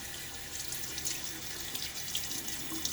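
Tap water runs steadily into a sink while a Wolfman Guerrilla open-comb safety razor is rinsed between shaving passes, a continuous close splashing hiss with no pauses.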